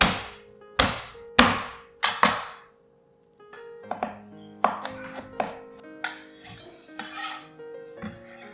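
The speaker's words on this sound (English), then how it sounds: "Roughly chop up 3 cloves of garlic" A knife chops three garlic cloves on a cutting board for a pork belly stir fry, with several sharp, ringing chops at first, a short pause, then a quicker run of lighter taps and cuts, close and clear with no talking.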